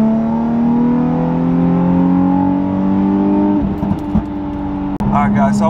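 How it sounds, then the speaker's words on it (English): A Nissan 350Z engine winds up hard through a third-gear pull, its strong harmonic note rising steadily, then cutting out briefly near the end with a sharp pop before resuming, loud and close. "Alright, we'll do another third gear pull."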